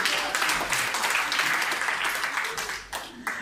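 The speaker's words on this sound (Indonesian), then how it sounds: "Tepuk tangan bagi Yesus" Applause from a church congregation at a Jakarta worship service, a dense steady patter of many hands clapping together, fairly loud and close, thinning slightly near the end.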